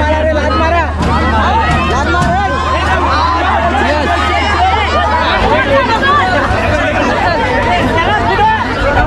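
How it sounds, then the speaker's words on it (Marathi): Dense, constant hubbub of many passengers packed into a crowded carriage of the midnight Sawantwadi Tutari Express out of Dadar, with overlapping voices and a steady low rumble of the moving train underneath. "मित्रांनो उडी बेफाट गर्दी आहे तर बघा किती गर्दी इकडे"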